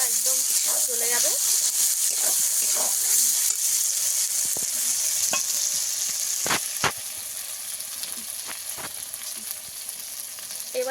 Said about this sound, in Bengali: এবার পোস্তটাকে একটু ভেজে নেব, হালকা করে ভাজতে হবে